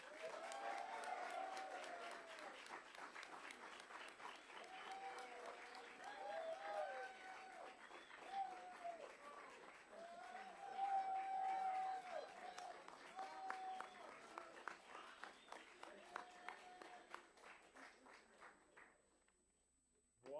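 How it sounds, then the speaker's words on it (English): A school board meeting audience applauds a retiring principal office assistant after 20 years of service. The clapping is broad and lively, with voices and cheers over it, and it gradually fades out near the end. "Wanda wins for the most applause."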